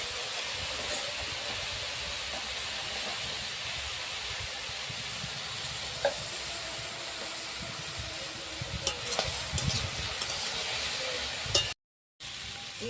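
Mixed vegetables fry together in a pan with sugar, giving a soft, continuous sizzling hiss at low volume with occasional faint clicks of stirring.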